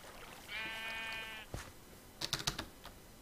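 A single sheep in the Minecraft video game gives one clear bleat, followed by a quick patter of computer keyboard clicks.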